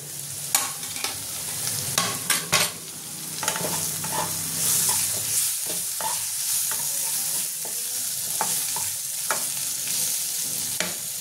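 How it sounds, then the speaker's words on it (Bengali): Vegetables with chopped tomato fry in a pan, a steady sizzle punctuated by repeated scraping and clattering strokes of a spoon stirring them, close and fairly loud throughout. "এটা সেদ্ধ হওয়া পর্যন্ত আমি একটুখানি এটা ভেজে নেব।"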